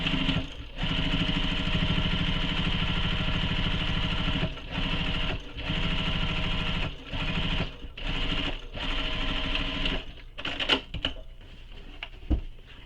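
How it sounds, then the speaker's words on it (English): A sewing machine stitches a tote bag in several bursts of fast, even mechanical whirring, each run ending in a short pause before starting again, close and clear. "Stitching again just for some extra security."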